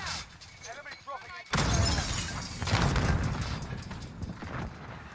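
Stun grenade detonation in the Warzone video game: a sudden loud broadband burst that rings on for several seconds amid gunfire and game noise, with talk over it.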